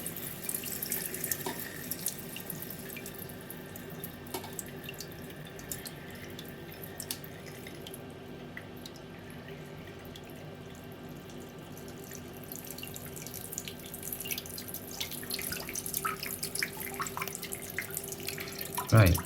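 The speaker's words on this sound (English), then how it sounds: "so I'm just going to open the tap to get rid of that." An opened tap runs steadily into a toilet cistern during a float valve diaphragm job, a continuous low, moderately faint rush of water with small splashes and a louder knock at the very end.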